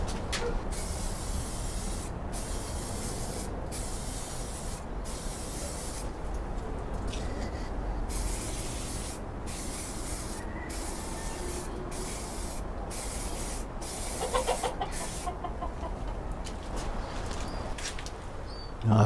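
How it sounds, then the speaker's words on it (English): Aerosol spray paint applied to the back of a Pacemaker TransPortable, a steady close hiss that runs almost continuously in long passes, broken by brief pauses, with no talk. "I'm going to start by spraying the back just to see how that goes."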